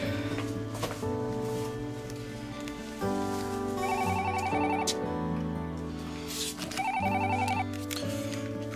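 A telephone rings in a home, its electronic trill coming in repeated bursts over sustained musical tones, clear and fairly close, with no talk.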